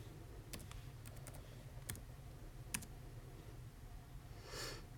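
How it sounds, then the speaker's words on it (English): Someone types on a computer keyboard, producing a few sparse, crisp keystrokes close by over a faint background hum, with no talking. "And then you type in the name that you want."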